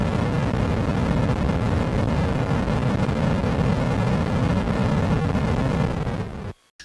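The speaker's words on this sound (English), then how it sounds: "it'll start to explode with the explosions and everything else, just like the arcade" Explosions in Missile Command on the Atari 5200 console, a dense continuous rumbling noise that holds steady for several seconds and then cuts off abruptly.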